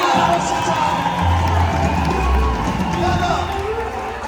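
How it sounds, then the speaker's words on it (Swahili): Young people at a church worship gathering produce a loud, continuous wash of crowd cheering and ululation, dense and close, with a low steady hum underneath. "Piga vigelegele vijana tunaendelea."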